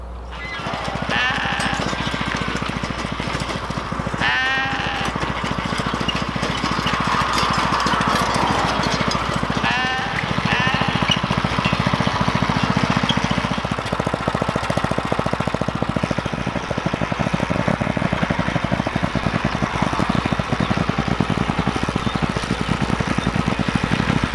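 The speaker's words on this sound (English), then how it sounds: "just rototill the row itself" A small gas engine runs steadily and loudly throughout, with a rough, knocking chatter as a rototiller churns garden soil nearby.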